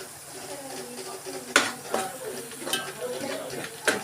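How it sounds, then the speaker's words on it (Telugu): A spoon stirs chili powder and salt into a veg manchurian mixture in a pan. There are several distinct scrapes and clinks over a faint sizzle, and a voice talks in the background. "కొంచెం కారం పొడి వేసి బాగా కలుపుకోవాలి"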